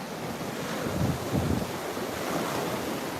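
Ocean surf and gusting wind at a dog beach on Juno Beach, a broad steady roar with a couple of swelling wave surges and wind buffeting the microphone.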